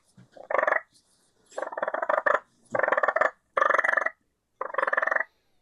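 A voice imitates an agitated turkey hen on a mouth diaphragm call, making five rapid, fluttering bursts of raspy cutting calls separated by brief pauses.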